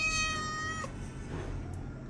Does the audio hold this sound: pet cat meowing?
yes